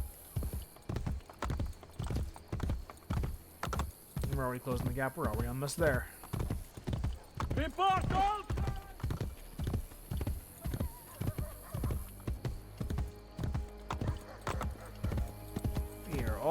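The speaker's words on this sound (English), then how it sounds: "Horse riding in this series has never been particularly interesting" Horse hooves clip-clop in a fast, regular gallop throughout a ride in Assassin's Creed Brotherhood, with a couple of whinnies partway through and someone talking over the hoofbeats.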